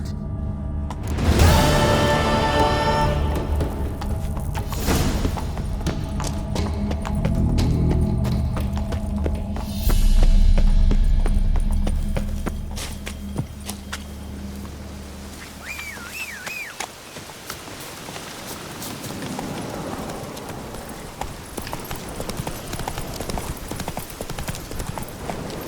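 Horse hooves clip-clop at a trot in The Witcher III, a steady rhythmic beat up close mixed with game music and a short whinny, later fading under ambient sound.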